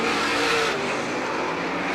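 Race cars roar around the Star Speedway oval in a 1991 feature race, a dense, continuous engine drone from several cars at once, loud and steady, swelling briefly as the pack passes.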